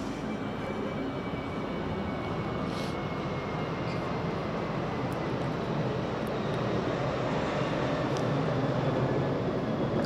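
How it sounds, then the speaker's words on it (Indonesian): A steady, broadband airplane roar drifts overhead near Yogyakarta airport, holding constant and fairly loud through the whole stretch with no voices. "ya kayak pesawat ini bolak-balik lewat kan gimana lagi?"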